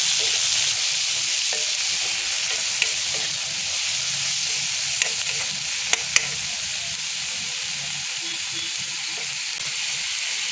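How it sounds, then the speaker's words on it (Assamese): Chopped spinach leaves are stirred in a hot frying pan. They give off a loud, steady sizzle and frying hiss close by, with a few faint clinks of the spoon against the pan and no talk. "পালেং পাত, এইখিনি মিক্স কৰি ল'ম ভালকৈ।"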